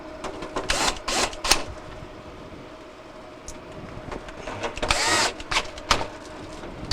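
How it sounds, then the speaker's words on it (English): A power driver drives quarter-inch screws into the back panel of a Kenmore refrigerator, giving two short, whirring bursts separated by a quieter pause. "we can now reattach our two 1/4 inch screws of the back panel"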